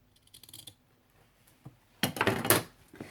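Scissors cut through fabric while covering a box. After faint handling noises, a loud, rough burst of snipping follows, close up and with no voices.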